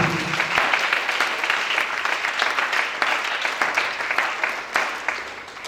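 A church congregation claps in praise of Jesus, a dense, lively burst of applause lasting a few seconds before easing off slightly.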